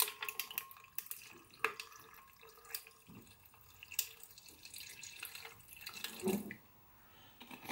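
Cocoa, 250 ml, poured into a container holding ten ice cubes: a quiet, trickling liquid pour with small drips and faint clinks, alone without talk.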